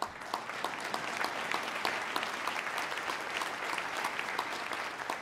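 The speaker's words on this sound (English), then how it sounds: "You should applaud." An audience applauds at a State of the State address, steady dense clapping held at a moderate distance with no voices on top.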